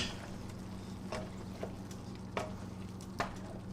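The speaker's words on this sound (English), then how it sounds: "So I'm going to stir this around again." Hamburger meat being stirred in a pot, a soft continuous sizzle with several light scraping strokes of a spoon at an unhurried pace.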